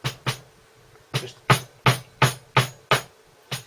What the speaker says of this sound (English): just hammer that down a little bit